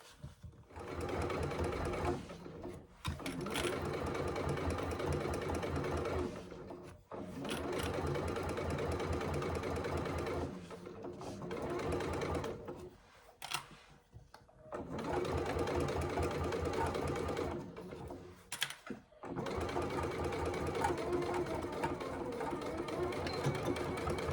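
A sewing machine stitches a curved seam on a hobo bag, running in several sustained whirring bursts of a few seconds each, separated by brief pauses, close and clear.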